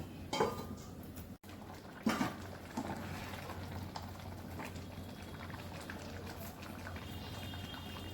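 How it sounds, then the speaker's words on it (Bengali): Moong dal with cauliflower simmering in a covered pot, a low steady bubbling hum with a few soft knocks and clinks near the start. "এর সঙ্গে ডালটা একটু ফুটবে, একটু ঢাকা দিচ্ছি।"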